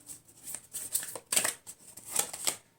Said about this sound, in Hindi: I will pick 5 more cards.